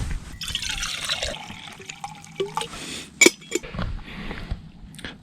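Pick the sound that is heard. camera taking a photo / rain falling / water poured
water poured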